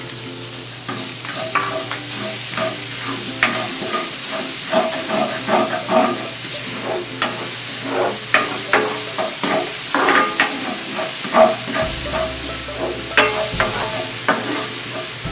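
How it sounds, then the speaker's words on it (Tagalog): Chopped onions stir-fry in clarified butter, a steady bright sizzle with repeated scraping stir strokes of a utensil in the pan, close and continuous with no talking. "clarified butter, and then we will stir fry our chopped onions"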